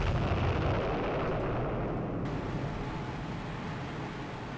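A loud underwater explosion in the submarine game Sub Command, a heavy, rumbling boom that fills the sound and slowly decays into a long, dull roar.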